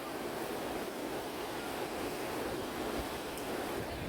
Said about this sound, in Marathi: हांगा पळोवं शकता लाट पळय कितले मारता